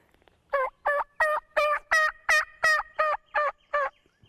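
A turkey mouth call gives ten evenly spaced, loud yelps, each clear and ringing, imitating a young male turkey, with silence between notes.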